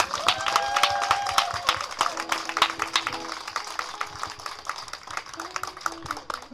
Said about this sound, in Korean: 힘내시라고 박수 한번 부탁드릴게요.